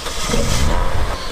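A car engine boosted with oxygen revs hard and close, a loud continuous roar that holds steady for a moment without any talking.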